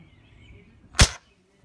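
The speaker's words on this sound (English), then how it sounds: "Just take the safety off my BB gun." A single sharp BB gun shot fires close by after a low background rumble, a sudden loud crack that cuts off quickly into silence, with a water bottle set up as the target outdoors.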